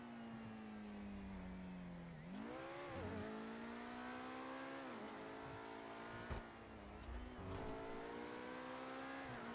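A car engine in GTA 5 revs and accelerates in repeated surges, pitch climbing through gear changes with a brief sharp knock midway, close and continuous with no talking.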